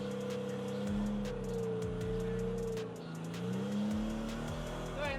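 A manual-transmission car engine revs and drones continuously, pitch rising and falling as it accelerates, loud and close throughout.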